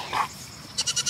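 Baby goats bleat and scream on weaning day on a farm, a brief louder cry followed by four quick repeated calls close by.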